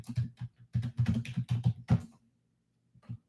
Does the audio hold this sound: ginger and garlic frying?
no